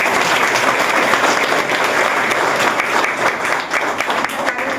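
Sustained applause from a large crowd at the Solapur municipal corporation as the mayor and deputy mayor are elected, loud and continuous throughout, with dense overlapping claps and no speech.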